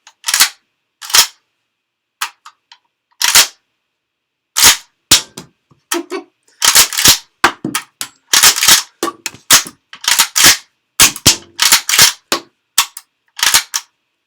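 A Pardus SL shotgun's action is worked by hand, producing a close series of sharp metallic clacks and snaps that come in irregular bursts separated by short silences, with no voices.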